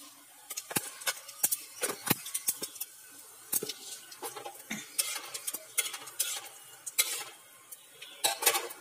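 Whole cumin seeds and dried chilli crackle in a small amount of oil with scattered sharp pops and spoon clicks against the pan, fairly quiet and irregular throughout.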